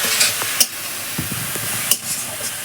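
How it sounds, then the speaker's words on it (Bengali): Kolai greens stirred in a hot pan, a steady low sizzle broken by a few scraping strokes of a spatula, close up with no talking. "এইটা কিছুক্ষণ 5 মিনিটের মতো নেড়েই যেতে হবে অনবর"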